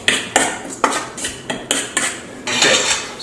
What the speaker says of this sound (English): But for right now, I'm just going to mix it by hand.